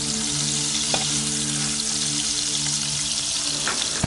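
A bay leaf, a dried chilli and panch phoron sizzle in hot oil pushed to the middle of a pan, a continuous bright crackle with a couple of soft knocks.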